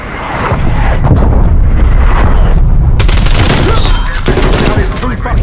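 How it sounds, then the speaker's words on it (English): Incoming artillery fire in Call of Duty Black Ops Cold War lands close by, with heavy booming blasts and crackling gunfire rolling continuously, loud and chaotic, alongside a sharp burst partway through. "Artillery targeting detected. Net call, incoming artillery."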